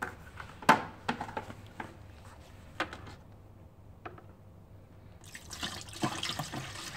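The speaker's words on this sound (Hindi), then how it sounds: "बाद में इसमें पानी डालने का," Tap water runs and splashes into the tank of a sofa cleaning machine, starting with scattered drips and clunks, then becoming a steady louder pour in the last seconds.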